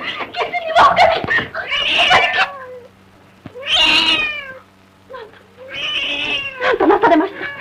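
A cat meows repeatedly in a scene from a 1950 Japanese period film. The cries are loud, close and wavering, some stretching into caterwauling wails, with pauses between the groups of cries.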